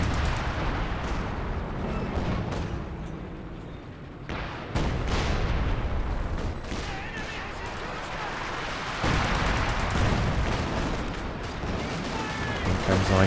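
Artillery lob fire in Company of Heroes 2: repeated heavy thuds and explosions amid crackling gunfire, dense and rumbling throughout, with intermittent talk over the battle.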